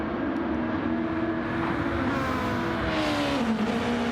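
Racing engines in the Gran Turismo 7 video game drone on continuously, with the pitch sliding and shifting as the cars race through the Montreal circuit. The engine sound is loud and steady, with no voices.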